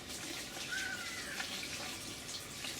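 Compost tea pours steadily into a hydroponic system with biochar, a soft continuous splashing trickle of liquid, faint and close, lasting a few seconds without speech.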